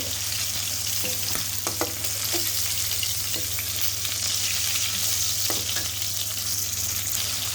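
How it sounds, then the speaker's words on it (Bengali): Tangra fish fry in hot oil with a steady, continuous sizzle. A few soft clinks from the utensil break through now and then, and no one speaks. "এবার আমি এই ট্যাংরা মাছগুলো সুন্দর করে একটু ভেজে নিব"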